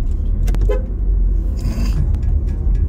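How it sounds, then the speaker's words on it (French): A car horn honks from traffic around a car on the road, a few short toots over the steady engine and road rumble, heard from inside the vehicle. "Bah klaxonne toi aussi."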